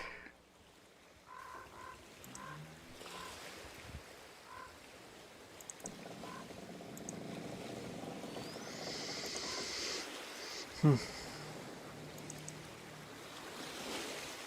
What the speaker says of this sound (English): this one should be the only one that has the louder water